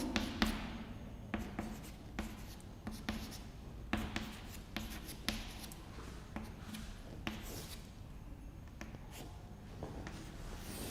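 A pen writing on paper while someone works through a matrix problem: steady scratching and tapping strokes, close and soft, running continuously over a low room hum with no talking.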